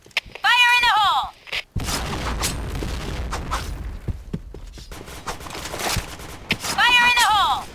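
Grenade blasts and gunfire in the video game Point Blank, a sharp burst of shots and heavy booms in quick succession between synthetic chirping effects, with voiced callouts heard in the game.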